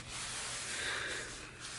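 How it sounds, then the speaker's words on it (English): Tape is rubbed down by hand while a junk journal inside cover is assembled, making a soft, steady, close-up friction hiss. "I rub it down to get a good adhesive between with the tape."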